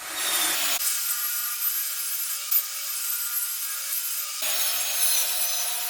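A table saw rips a wooden fence picket board into narrow strips, a steady loud whine of the blade cutting through wood for several seconds, dropping in pitch under load then returning to free spin.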